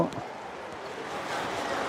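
Forest stream water falling from a waterfall, a steady broadband rush and splash heard up close, soft at first and swelling slightly louder toward the end.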